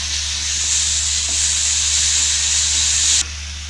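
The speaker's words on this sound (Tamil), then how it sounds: "இஞ்சி பூண்டு பேஸ்ட் சேர்த்துட்டு அது கொஞ்சமா வதக்கி விட்டுக்கோங்க" Ginger garlic paste sizzling and being sautéed in a pan for mutton gravy, a steady loud hiss with no voices, cutting off abruptly near the end.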